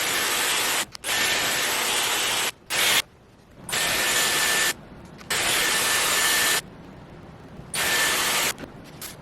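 A Dyson Airwrap hair styler with inward-curling barrels blows air in loud, steady bursts of a few seconds each, cutting off between curls, close by with no talking.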